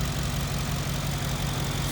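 The twin-turbo V8 of a 2021 Mercedes-AMG G63, rated over 550 horsepower, idles with the hood open, giving a steady, close, deep rumble that holds even throughout.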